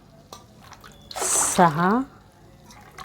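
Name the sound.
pouring water from a bowl onto sago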